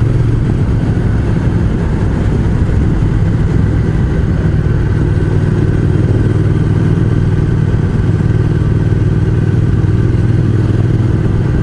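A motorcycle in fifth gear cruises a winding Alpine mountain road, its engine droning steadily at a constant mid-pitched hum with road and wind rumble underneath, close and loud throughout with no talking.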